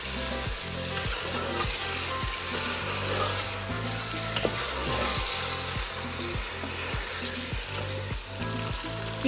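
Chicken fries in a pan with a constant hissing sizzle, punctuated by regular rhythmic scrapes as it is stirred and turned, close and loud with no talking.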